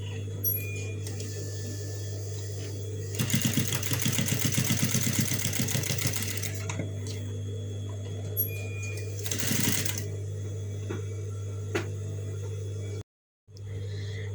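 A sewing machine stitches fabric for a lunch bag in two loud rapid bursts, one about three seconds long and a shorter one after it. A steady low hum runs beneath, and brief quiet gaps separate the runs.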